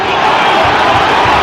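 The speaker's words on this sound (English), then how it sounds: "Volume being supplied by the home crowd." Brentford home supporters roaring through an FA Cup match against Wolves, a loud, dense wall of crowd noise holding steady with faint chant pulses underneath.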